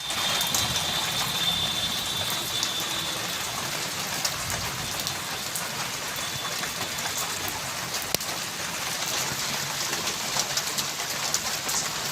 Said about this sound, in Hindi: मात्र कुछ मिनटों की बारिश ने रानीगंज शहर की तपिश को शीतल कर दिया